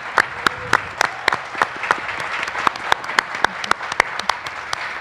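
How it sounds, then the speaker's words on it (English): An audience at a statehood constitutional convention applauds, a steady wash of clapping with distinct sharp individual claps standing out close by, continuing for several seconds without speech. "I want to give her a big round of applause for her federal and regional work."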